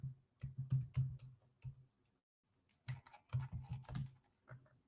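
Someone types on a computer keyboard in short bursts of quick, close keystrokes. Each burst is a run of crisp clicks, with a brief pause midway before the typing picks up again.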